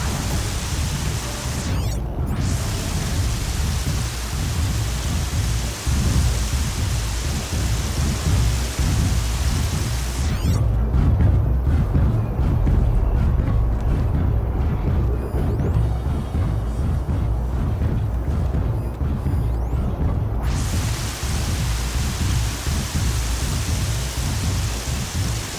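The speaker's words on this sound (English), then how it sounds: "Rain's too loud to hear much." Heavy rain pours steadily in Horizon Zero Dawn, with rolling thunder rumbling through a loud, dense downpour for the whole stretch. No voices.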